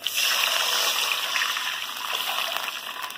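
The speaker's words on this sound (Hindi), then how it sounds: "पानी गिरा रहे हैं।" Water pours steadily into a cooking pan onto fried chana dal for upma, a continuous bright splashing rush that eases slightly toward the end.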